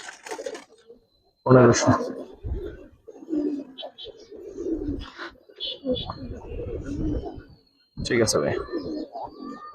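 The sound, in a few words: Giribaz racing pigeons cooing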